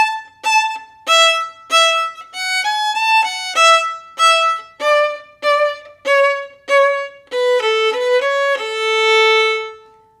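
Solo violin plays the opening line of an Allegro in broad, detached staccato strokes, each note clean and separated by short gaps, ending on a longer sustained note; close and clear with no talking.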